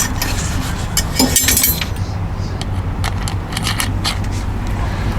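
Metal rotisserie forks clink and scrape as they are slid onto a spit for a top round London broil roast over charcoal, a cluster of bright metallic clinks early on over steady outdoor background noise.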